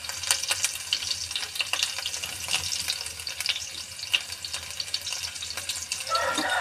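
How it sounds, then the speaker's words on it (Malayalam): Chopped small shallots fry in a pan with a steady sizzle and crackle, broken by a few clicks of stirring, for a spice-and-greens curry. "ഇതിലേക്ക് ചെറിയ ഉള്ളി ചെറുതാക്കി അരിഞ്ഞ് വെച്ച് ചെറിയ ഉള്ളി ചേർക്കുന്നുണ്ട്. ഒന്ന് നന്നായിട്ട് മൂത്ത് വരട്ടെ."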